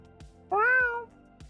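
A cat gives one clear, rising and falling meow lasting about half a second, with faint soft clicks before and after it.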